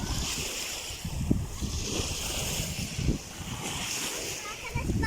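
Waves roll onto a Turkish beach on a rough, choppy day, a steady wash of surf with wind noise and a few louder breaking surges, while people talk and laugh nearby.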